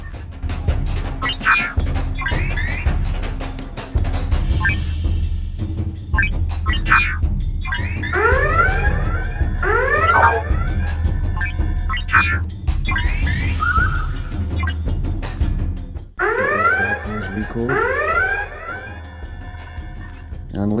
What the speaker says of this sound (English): And listen to those sirens wail.